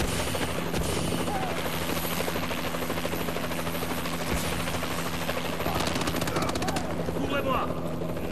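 A combat drone flies in a multiplayer shooter video game, its steady rotor-like mechanical drone running the full length under bursts of automatic gunfire and brief game voice lines.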